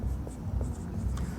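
Pen scratching steadily across paper as a heading is written by hand, a close, continuous soft scraping with small strokes, no voice over it.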